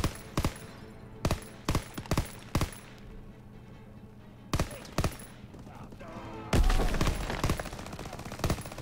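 MG 42 machine gun fire in the Call of Duty WWII game, a series of sharp loud bursts in quick groups followed by a heavier sustained barrage amid battlefield noise.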